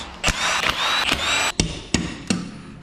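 A power impact tool zips out differential cover bolts on a Sterling 10.25 rear axle from a 1985-1997 Ford F250/F350, loud close whirring bursts broken by several sharp hammering impacts.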